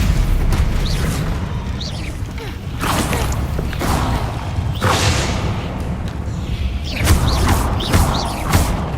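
A Stupefy stunning spell cast in the Hogwarts Legacy video game, heard as repeated sharp magical whooshes and thudding bursts over a steady low rumble of combat, several impacts spaced a second or two apart.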